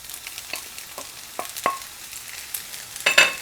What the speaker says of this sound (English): So it's sizzling, and it's sizzling because there's a lot of water content in shirataki as well.